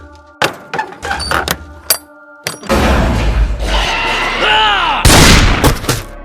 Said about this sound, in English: all the while the banging continued